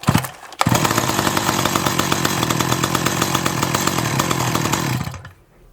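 A cheap restored two-stroke chainsaw engine fires up after a brief pause and runs at a steady, loud buzzing rev for about four and a half seconds, then cuts off abruptly into silence.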